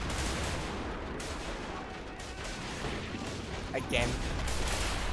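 Dense gunfire and explosions fill a 1915 Great War battle at Bois le Pretre in a WW1 video game, a continuous loud barrage of shots with sharper cracks near the end, while a player says a brief word.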